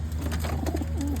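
Taiwan pigeons coo in low, soft, rolling bursts, close and steady over a continuous background hum, with no talking.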